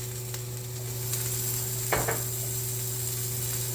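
Beef tallow melts in a hot pot with a steady, close sizzle and a constant low hum beneath it. A single brief scrape or clatter sounds midway.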